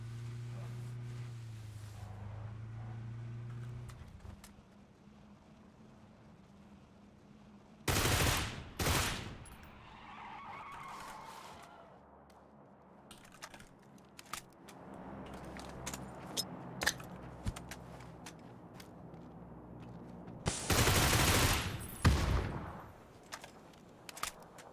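Gunfire in PUBG during a solo match, with a Groza and an MK14 in use: two sharp, loud bursts of shots stand out, one early and one late, among scattered fainter cracks and quieter game noise in between.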